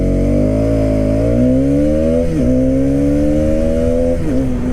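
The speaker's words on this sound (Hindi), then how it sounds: "One more time from a standstill, let's check out the acceleration." A Hero Karizma XMR motorcycle pulls away from a standstill, its loud, close engine note rising steadily through two quick gear changes.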